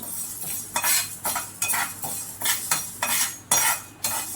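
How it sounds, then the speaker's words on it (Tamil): A spoon stirs moong dal dry-roasting in a pan for venn pongal, with repeated scraping strokes against the metal in an uneven rhythm and light rattling of lentils, close and without talk. "இப்போ அந்த பாசிப்பருப்பு போட்டுக்கலாம். அப்படியே விடாமல் மிக்ஸ் பண்ணிகிட்டே இருக்கணும்"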